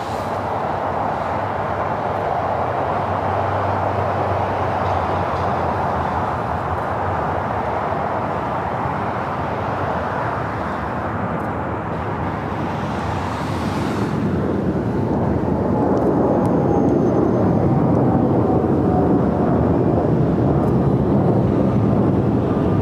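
A United Boeing 787 Dreamliner takes off from LAX runway 25 right as a broad, steady roar that rises and thickens partway through, heard from a distance with wind buffeting the microphone and no talk.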